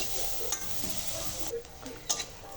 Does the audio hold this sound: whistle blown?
no